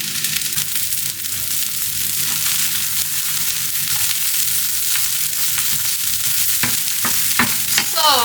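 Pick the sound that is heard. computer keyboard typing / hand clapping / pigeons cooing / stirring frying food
stirring frying food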